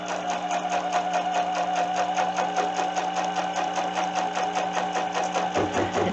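An embroidery machine stitches a basting box, a loud, close, rapid and perfectly regular mechanical chatter with a steady hum, running continuously before easing near the end.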